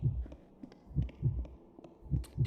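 In the horror game White Day, a character's racing heartbeat thuds close and loud in quick, regular double beats, several pairs repeating at a steady pace with faint clicks above.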